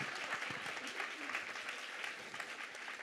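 Audience at a women-in-the-workforce panel applauds to welcome the panelists, steady broadband clapping throughout at moderate level with a faint voice or two underneath.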